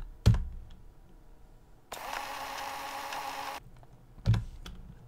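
Keyboard typing on a Raspberry Pi while entering terminal commands: a few sharp separate key clicks, then a steady burst of fast, close typing, and then more isolated clicks near the end.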